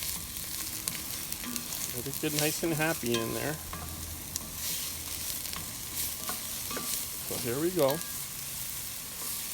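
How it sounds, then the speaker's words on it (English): Chopped onions sizzle and crackle steadily in a hot frying pan while being stirred around, a continuous hiss under intermittent talking from a cook nearby. "So you hear the sizzle here? Nice sizzle."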